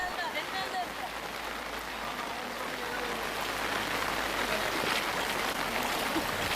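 Heavy rain pours down in a steady, dense hiss of countless drops that runs unbroken for several seconds, with a voice speaking over the downpour.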